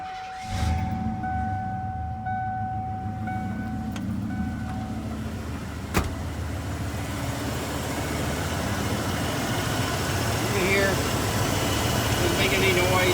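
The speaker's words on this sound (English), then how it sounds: "I'm going to start up the engine so you guys can hear the results on both of them" Ford F-150 truck engine after smog pump repair, starting with a sharp catch and settling into a steady, quiet idle, heard close with someone talking over it at the start.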